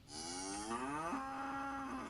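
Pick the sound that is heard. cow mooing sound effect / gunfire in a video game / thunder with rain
cow mooing sound effect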